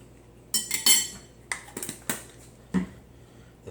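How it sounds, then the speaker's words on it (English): A metal spoon scooping chili garlic into a bowl of Ve Wong Taiwanese ramen, making several close clinks and scrapes against the bowl in irregular bursts, with quiet gaps between. "Now I'm going to add 2 of these, 2 spoonfuls of chili garlic."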